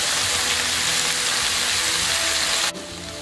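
Soy sauce poured into a hot wok sizzles as a loud, steady hiss of frying close by, then cuts off abruptly near the end, with no talking.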